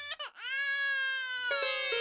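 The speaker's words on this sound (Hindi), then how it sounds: "ये तो बच्चे की रोने की आवाज है।" An infant cries in one long wailing, tonal cry after a brief whimpering start, clear and close, with a short noisy burst near the end.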